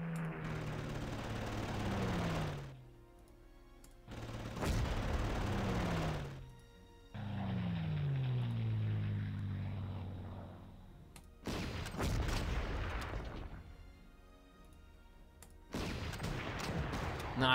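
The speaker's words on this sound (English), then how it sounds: "Let's start bombing this." Bombing runs and gunfire in the Panzer Corps war game, fairly faint separate bursts of shots and rumbling blasts divided by short quiet gaps.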